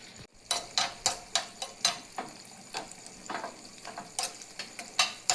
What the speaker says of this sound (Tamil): முந்திரி எடுத்து வச்சுருக்கோம் அதை வறுத்துக்கலாம்